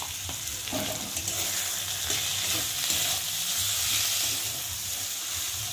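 Chilli powder, salt and turmeric fry in hot oil with ginger, garlic and onion for a rohu fish kalia, giving a loud, steady sizzle with soft stirring scrapes throughout and no talking.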